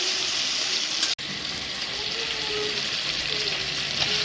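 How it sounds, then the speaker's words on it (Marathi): Ginger garlic paste frying in hot oil in a kadhai, a steady close sizzle throughout with one brief sharp break near the start and faint stirring. "तेल गरम झाल्यानंतर ते टाकायचे, तर अद्रक लसणाची पेस्ट टाकायचे"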